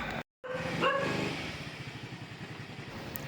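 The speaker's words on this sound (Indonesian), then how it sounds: "ternyata ada guguk menghampiri di depan rumah" A dog barks repeatedly in front of a house at dawn, fairly close, with a brief dropout early and a steady rumble of passing traffic or a motorbike underneath.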